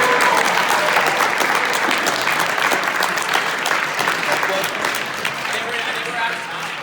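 Audience applause for speakers at a forensic science talk, a steady wash of crowd clapping with faint voices underneath that eases slightly toward the end.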